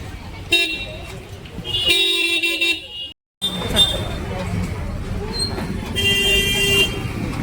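Car and bus horns toot repeatedly amid jammed traffic near the Thane flower market, loud and close over steady road rumble, with a brief dropout midway and voices nearby.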